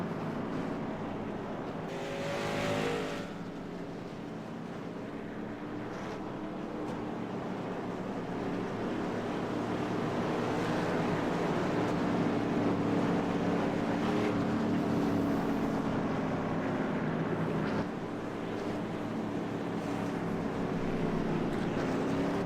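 Race cars lapping an oval track late in a race, a continuous roar of engines rising and swelling as the field passes, heard from a distance with wind noise and no talk.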